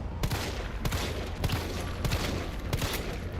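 Gunshots in the video game Resident Evil 3 Remake ring out as a quick run of sharp cracks at irregular intervals over a dense, noisy game soundtrack, loud and close.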